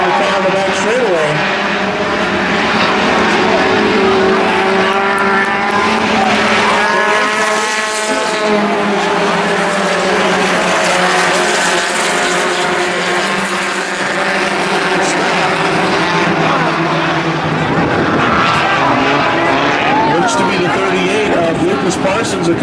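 Race cars roar around the oval at Fairmont Raceway, a dense, continuous engine drone with shifting pitches as cars pass, running under steady announcer commentary throughout.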